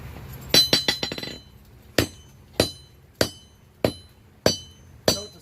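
Hammering while forging the central block of a mini anvil rings out as sharp metallic strikes, first a quick burst of several rapid blows, then six evenly spaced, ringing hits, loud and close.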